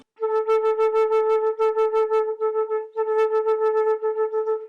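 A single sustained flute note played with a shaky, nervous breath, the tone wobbling in loudness in quick uneven pulses, with a short break before the wavering note resumes, close and solo.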